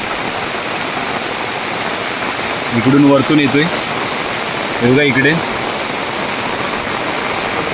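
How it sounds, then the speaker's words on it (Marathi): Heavy rain pouring down in a Konkan village, a dense steady roar of rainfall close by, with someone briefly speaking twice over it. "खूप जोरात पाऊस चालू आहे"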